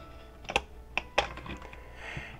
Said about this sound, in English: that's the sound your film cassette makes when it's rewound